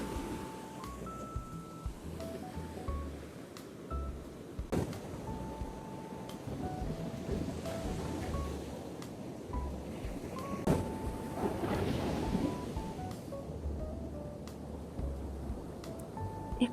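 Ocean waves wash onto the shore in a soft, continuous surge, with gusts of wind buffeting the microphone and a gentle melodic tune playing faintly over the surf.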